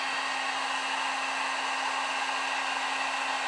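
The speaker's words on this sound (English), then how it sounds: "So now while that's in there, I take my heat gun." A heat gun blows hot air onto a homemade broadhead sheath, giving a steady, loud, close whooshing roar with a constant motor whine throughout.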